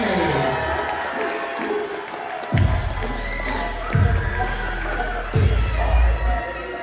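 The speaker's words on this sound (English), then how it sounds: "a big round of applause for the 12 Underboy!" Crowd at a New South Wales basketball welcome party in the Philippines cheers and whoops for a boys' under-12 team, a steady roar of applause and shouting with loud low thumps at intervals.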